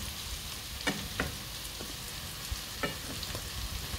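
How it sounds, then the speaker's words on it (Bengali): Bitter gourd (uste) frying in a pan in a home kitchen, a steady soft sizzle with a few sharp clicks and taps of utensils, no voices. "এই যে এই পাশে আমার উস্তে ভাজি হচ্ছে,"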